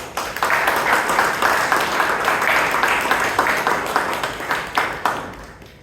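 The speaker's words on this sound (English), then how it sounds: "So we'll give a round of applause for all the role takers." A club-meeting audience gives a round of applause with steady, moderately dense clapping that fades out near the end.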